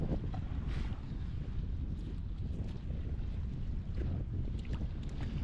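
Wind by the sea at Erstavik, Nacka, Sweden, a steady low rumble buffeting the microphone, with faint splashing mixed in.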